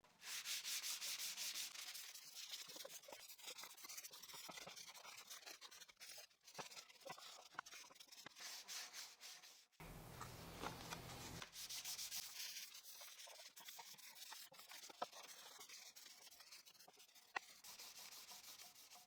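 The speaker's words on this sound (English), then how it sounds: "I'll still do manual sanding to get a finer result" Wood being hand-sanded with 220 and then 360 grit sandpaper gives a steady, close rasping rub in long repeated strokes, quiet and continuous with short pauses.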